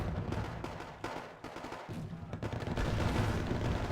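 Sustained distant battle fire from a Soviet T-72 tank and other units in the Wargame AirLand Battle strategy game, a rumbling series of booms and crackling shots that builds to a denser, louder barrage toward the end.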